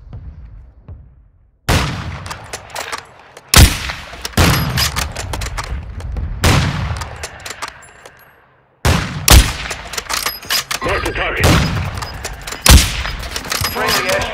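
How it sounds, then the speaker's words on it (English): Gunfire in Warzone 2.0 comes in several loud bursts of rapid shots and booms, separated by brief silent cuts, with game voice callouts partly mixed in among the shots. "Taking effective fire!"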